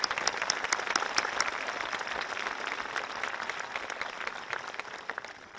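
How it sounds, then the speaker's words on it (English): A graduation audience applauds steadily, many hands clapping in a thick, even wash with sharp individual claps on top, gradually tapering toward the end. "Let's give these individuals a round of applause."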